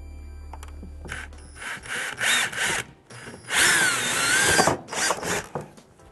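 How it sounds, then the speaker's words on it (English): Power drill boring mounting holes in motorcycle race bodywork for a Honda CBR250R, with bursts of whirring and grinding broken by short pauses, one long steady run in the middle, close and loud. "And drill your holes."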